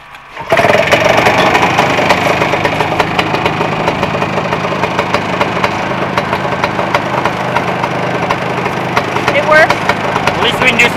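A 1974 Snowbug Superbug snowmobile engine catches after a short quiet moment and settles into a loud, steady mid-pitched running drone with a slight rattle, close by and sustained to the end.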